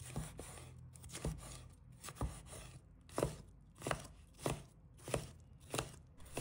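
A small piece of red chili is chopped into small pieces with a knife on a cutting board, giving about a dozen crisp, evenly spaced blade strikes close by.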